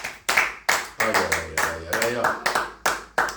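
A church congregation claps rhythmically in praise to the Lord, with about a dozen sharp, evenly spaced claps. Voices sing or call out over the clapping.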